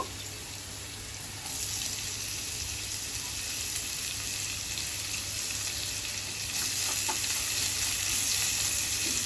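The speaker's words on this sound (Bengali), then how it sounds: "আলুটাও ভাজা হবে তার সাথে পেঁয়াজটাও ভাজা হয়ে যাবে নরম হয়ে যাবে" Potato and onion fry in hot oil for an ol chingri dish, a continuous close sizzle and crackle that grows louder in two steps as cooking goes on, with no speech.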